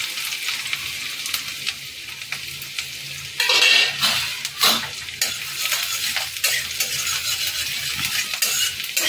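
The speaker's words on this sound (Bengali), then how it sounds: "হালকা একটু নেড়ে নেবো, খুব বেশি ভাজা দরকার নেই।" Chopped chilies and garlic are stirred in hot mustard oil in a pan over a medium gas flame, a soft steady sizzle broken by repeated scraping strokes of a spatula against the pan, close and without talk.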